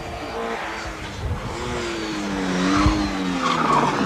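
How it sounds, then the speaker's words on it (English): A Sunbeam rally car at the 1984 Wexford Castrol Rally brakes hard and skids with a long, loud tyre squeal over its engine, sliding pitch rising and falling, with a commentator faintly audible. "jumping on the brakes there"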